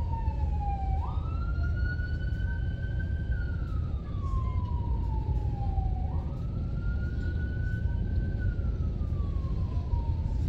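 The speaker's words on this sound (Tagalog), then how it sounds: "Okay, meron palang ambulansya." An ambulance siren wails, rising and falling in slow sweeping cycles over steady low traffic rumble, loud and fairly near, no voices.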